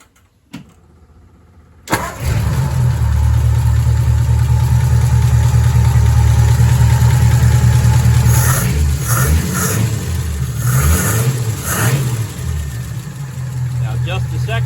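A flathead engine in a coupe fitted with Holley 94 carburetors cranks and fires after a brief quiet start, then settles into a loud, steady, close rumbling idle with some uneven revving, while a voice talks over it.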